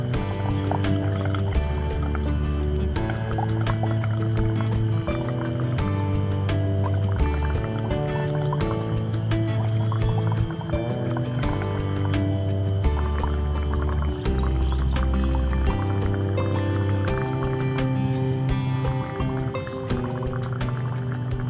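Breath blown out through a tube into water makes a continuous bubbling, gurgling churn that stays steady and close for the whole stretch.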